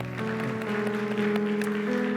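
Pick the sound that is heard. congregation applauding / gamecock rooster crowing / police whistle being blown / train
congregation applauding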